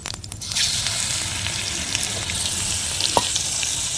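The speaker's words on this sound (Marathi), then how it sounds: "थोडंसं जिरं टाकून घेऊया आलं लसूण टाकून घेऊया" Cumin, ginger and garlic frying in a pan, a dense continuous sizzle that stays close and even throughout, with a faint tap near the end and no talking.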